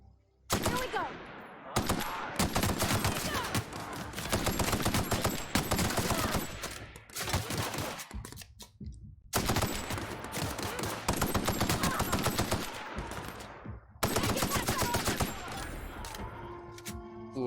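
Assault rifle fire in The Outer Worlds: loud sustained automatic bursts with short pauses between them, dense and close for most of the stretch.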